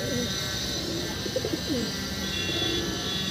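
Standing show pigeons at a loft coo in low, soft bursts, close by, over a steady hiss of background noise with no talking.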